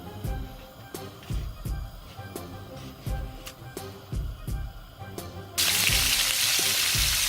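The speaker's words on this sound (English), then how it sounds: "So I've added the prawns to my wok, and I will just let them get color." Prawns fry in about two tablespoons of oil in a wok on a stove, giving a steady sizzle broken by repeated clattering knocks, then swelling into a loud, dense hiss near the end.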